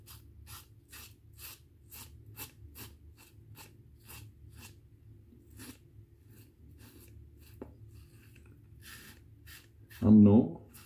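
A Declaration Grooming Darkfall razor scrapes across skin in a steady run of short, close rasping strokes, with a louder, brief scrape near the end.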